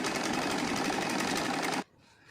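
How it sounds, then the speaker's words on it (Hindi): Sewing machine stitching two pieces of heavy silk saree fabric joined together, a steady rapid whirring run for nearly two seconds that stops abruptly, leaving a faint quiet tail. "उसके बाद हम इसके ऊपर सिलाई करते जाएंगे।"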